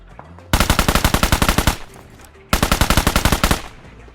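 Two long bursts of rapid automatic fire from a UMP submachine gun in the BGMI mobile battle royale, each lasting about a second and a half and loud and close, separated by a short pause.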